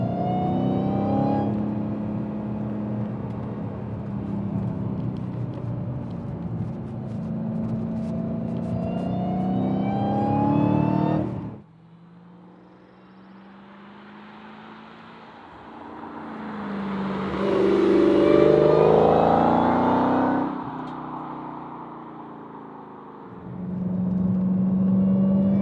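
A supercharged Hellcat engine revs hard and pulls under acceleration, a loud sustained roar that climbs in pitch, drops off briefly, then surges again close-up inside the car with no voices.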